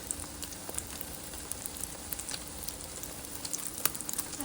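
Carnivore French toast pieces frying in a hot pan, giving a steady, dense crackle of sizzling with scattered sharper pops, close and moderately loud, continuing without pause.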